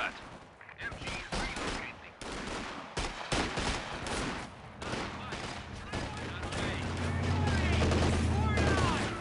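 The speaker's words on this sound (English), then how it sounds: "Machine gun team, prepared for combat." Rapid machine gun bursts rattle in a Company of Heroes 2 4v4 battle on Lorch, dense overlapping gunfire and explosions close by, with unit voices calling out amid the combat.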